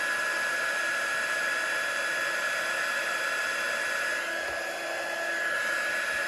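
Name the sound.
heat gun melting embossing powder on a stamped image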